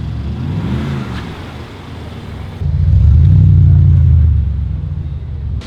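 A Porsche Turbo S on a test drive, engine rumbling low and then swelling into a louder, sustained roar as the car accelerates, close and dominant with no talking.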